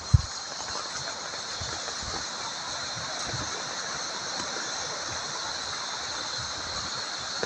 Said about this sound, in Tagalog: Tubig baha.